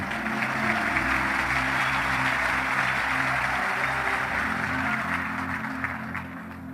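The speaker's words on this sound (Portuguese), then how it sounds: "Dá uma salva de palmas para Jesus." Church congregation applauding during a sermon, a steady wash of many hands clapping at moderate distance over a low sustained musical hum, tapering slightly at the end.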